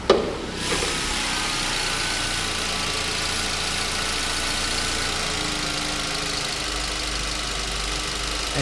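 A 2008 Ford Focus SE with a 2-liter engine idles steadily, a smooth, even hum with a faint rhythmic knock, heard close up and unbroken after a brief bump at the start.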